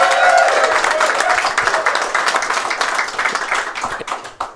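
Audience clapping at a live London dinner event, a loud burst of applause that gradually thins out toward the end, with voices mixed in.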